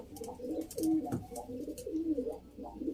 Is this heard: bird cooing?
yes